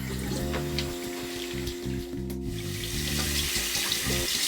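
Water from a running tap splashes steadily while a shaving brush is rinsed beneath it, a continuous close hiss with small shifts as the brush moves through the stream.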